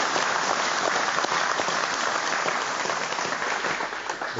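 A studio audience at a motorsport talk show applauds, a dense, even clatter of many hands clapping close and loud for the whole stretch, easing slightly at the end.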